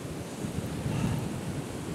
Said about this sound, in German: Ja, leider extremer Wind hier. Und der ist noch dazu verdammt kalt.